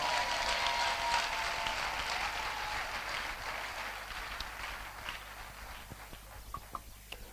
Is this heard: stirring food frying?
no